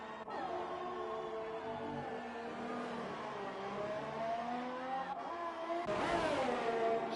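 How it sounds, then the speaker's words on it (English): A race car in a sim racing game skids at the Australian GP circuit, its engine droning and wavering under a long tire squeal, with a sharper burst of noise near the end that fits a crash. "And on the last lap, Jure Marusic is going to crash."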